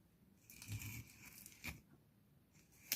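Craft kit packaging holding plates is opened with a few short, faint tearing and crinkling bursts, quiet and close.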